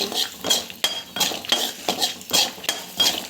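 A spoon scrapes rhythmically through gongura leaves sautéing in a pan, about seven brisk metallic strokes in a steady pattern, close and clear with no voices.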